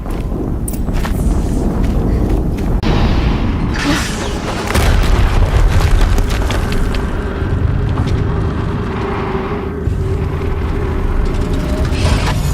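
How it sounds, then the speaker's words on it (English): Heavy booming explosion in the game Horizon Zero Dawn, a dense rumbling roar with rolling low-end blasts that stays loud and sustained throughout, with wind-like noise and scattered impacts layered on top. "Another explosion."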